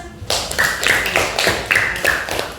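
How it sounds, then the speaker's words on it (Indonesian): Loud, close clapping in a classroom setting, a few distinct bursts of hands striking in an uneven rhythm rather than a large crowd's roar. "Tepuk tangan."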